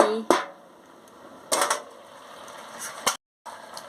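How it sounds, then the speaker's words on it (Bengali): Metal pot lid lifted off a pot of simmering dal with pumpkin and potato, giving a few sharp clanks spread over a few seconds, close by, with quiet gaps between. "সিদ্ধ হয়ে গেলে ঢাকাটা খুলে নিচ্ছি"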